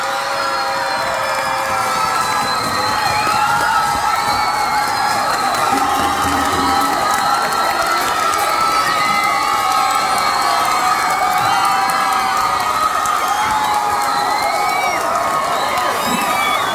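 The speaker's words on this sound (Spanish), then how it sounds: "el aplauso para la Ligosa González" A loud audience of adults and children cheers, shouts and applauds for a dance group at a live show; continuous, sustained crowd noise with whoops and screams throughout, no clear talk.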